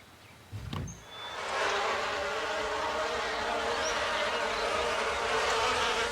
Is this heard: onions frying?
no